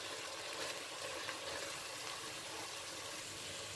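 Chicken macaroni with mixed vegetables frying in a pan, a steady, moderately quiet sizzle with a broad crackling hiss that holds evenly throughout, no voices over it.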